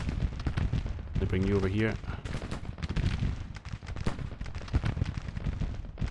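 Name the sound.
artillery and gunfire in Grand Tactician: The Civil War video game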